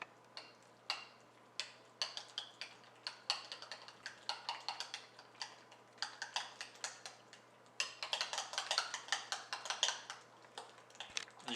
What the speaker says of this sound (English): now we're just going to mix that all together